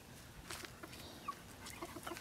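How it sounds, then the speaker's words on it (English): Backyard chickens from Tractor Supply cluck softly in a suburban garden, a scatter of faint, short clucks and chirps at some distance in a quiet outdoor setting. "I call them the raptors. Tractor Supply chickens."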